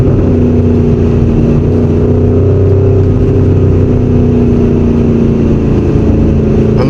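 A Porsche Cayenne Turbo GT with its exhaust valves open gives a loud, close, steady deep engine drone that holds at a sustained rev with a rich rumbling tone throughout.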